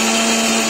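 A mixer grinder whirring loudly and continuously as it grinds chopped coconut, a dense high motor whine throughout.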